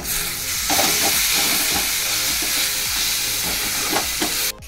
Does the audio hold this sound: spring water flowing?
no